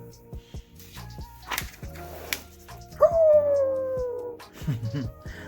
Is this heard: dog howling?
yes